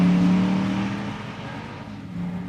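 A Jeep Grand Cherokee Trackhawk launches at a drag strip with its launch control set to 1500, giving a loud, close engine roar that holds steady and then slowly fades.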